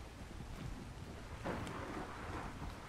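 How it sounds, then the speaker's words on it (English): Rain falling steadily in the video game ARK Survival, a soft continuous hiss with a faint thunder rumble rolling in midway, distant and low, no voices. "I feel like it's always raining on this map."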